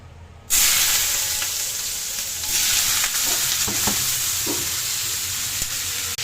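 Vegetables for chow mein hit smoking-hot oil with a sudden loud hiss that settles into a steady, close sizzle, dotted with faint stirring clicks.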